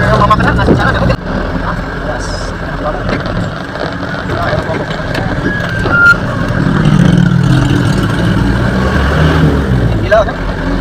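A car maneuvers outside a rice restaurant, with reversing beeps and a low engine rumble over street noise, while people talk nearby.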